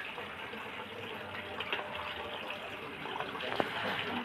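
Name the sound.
rinsing cut fish pieces under running water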